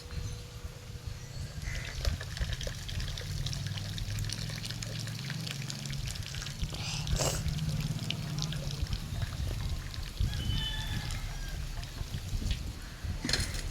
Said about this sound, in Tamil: இந்த மாதிரி கொஞ்சம் கேப் விட்டு இந்த மாதிரி வடிகட்டிட்டா நம்ம கையில் தண்ணி படாது வந்து.